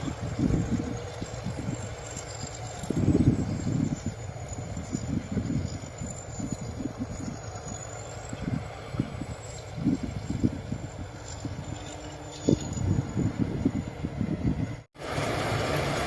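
A combine harvester engine chugs low and steady at a slow, even pace on light throttle, with a faint high whine above it and a brief dropout near the end.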